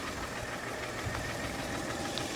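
A car engine idles roughly and misfires, not running on all cylinders, with a steady uneven mechanical rumble and knock heard up close and continuous throughout, with no voices.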